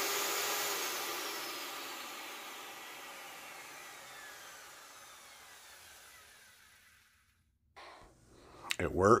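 A refurbished router's motor winds down after running, its whine falling steadily in pitch and fading to near silence, followed by close handling clatter.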